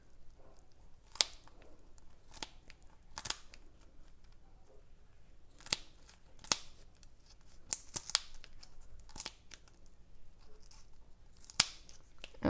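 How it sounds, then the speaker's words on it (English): Scissors snip through a quail carcass from neck to tail, sharp crisp cuts repeating irregularly, about a dozen close crunchy clips against a quiet background. "We're going to cut all the way from the neck to the butt."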